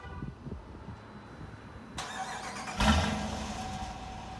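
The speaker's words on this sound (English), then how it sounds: "You can definitely tell it's a V8. It's not as throaty as the SRT8." A 2018 Dodge Durango R/T AWD with a V8 engine cranks and catches after a quiet pause, a sharp burst of starter noise followed by a louder flare as the engine fires, then settles into a steady running rumble.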